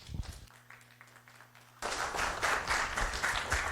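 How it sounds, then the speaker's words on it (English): Museum lecture audience applauding a speaker's introduction, a steady wash of clapping that starts abruptly after a brief quieter stretch with some talk and continues loud to the end. "please, let's all give a round of applause for Antoine"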